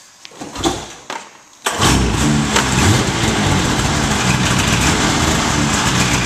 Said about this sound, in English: definitely get the motor running